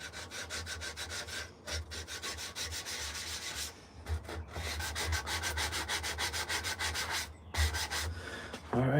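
A carved wooden spoon is sanded by hand in a workshop: steady, close, rasping strokes that rub back and forth almost continuously, with a few brief pauses and no talking.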